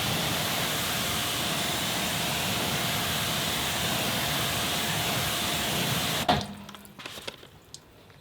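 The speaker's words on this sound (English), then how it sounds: "let's give that another rinse and then wipe it down with the towel again." A strong water spray rinses a car wheel, a steady loud hiss for about six seconds before cutting off, leaving faint drips and handling noises.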